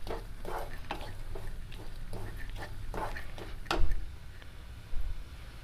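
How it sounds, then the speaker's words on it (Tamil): A coconut milk peda mixture is stirred in a kadai with a spoon scraping in regular rhythmic strokes over a low steady hum, followed by a couple of louder knocks near the end. "இது கடாயில் போட்டு நல்லா கலக்கிக்கிட்டே இருக்கணும் கொஞ்ச நேரம்"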